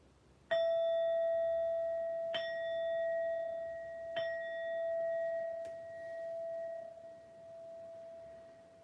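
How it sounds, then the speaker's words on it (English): A ringing bell is struck three times at even intervals, each strike leaving a long, clear sustained tone that decays slowly, followed by a lighter tap near the end. "We have to strike the bell like 12 times."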